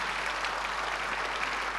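An audience in a church applauds, a dense, steady wash of clapping from many hands that fills the room evenly and continues without a break.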